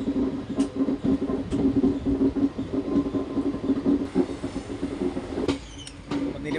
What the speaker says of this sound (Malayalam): ട്രെയിൻ എത്താൻ പോകുന്നു, വെയിറ്റ് ചെയ്യാം.